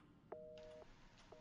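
Telephone in the Resident Evil 7 horror game sounding a steady electronic tone, two brief bursts with a sustained beep, fairly quiet and heard alone without talk.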